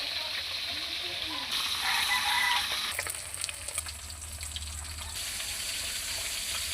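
Food fries in a pan on an island: soft continuous sizzling, with watery bubbling and occasional stirring clatter, heard fairly faint at close range without voices.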